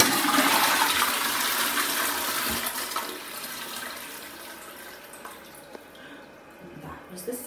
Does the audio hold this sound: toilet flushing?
yes